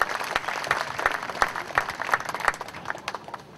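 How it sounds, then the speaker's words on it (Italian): An audience in Sapri applauds journalist Pasquale Scaldaferri and José Altafini at an award evening: steady, moderately loud clapping from a crowd, with individual sharp claps standing out throughout. "Un applauso al giornalista Pasquale Scaldaferri e a José Altafini."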